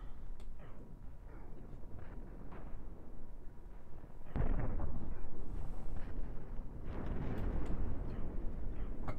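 Spaceship weapons in the space combat game Cosmoteer fire on an enemy frigate, a dense rumbling roar that surges sharply halfway through and stays heavy and loud to the end.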